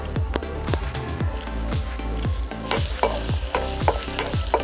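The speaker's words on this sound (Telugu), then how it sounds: "పోపు వేగిపోయిందండి" A tempering of lentils, mustard, fenugreek, asafoetida, dried red chillies and green chillies fries in oil for an amaranth yogurt chutney. Steady sizzling runs under repeated rhythmic stirring strokes of a spoon in the pan, close and fairly loud, with no talk.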